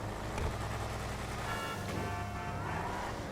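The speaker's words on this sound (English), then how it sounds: "you can hear the supercharger." Supercharger whine from a Bravado Buffalo STX car in GTA Online, a steady engine drone with a rising high-pitched whir as the car pulls away from braking, continuous and fairly loud.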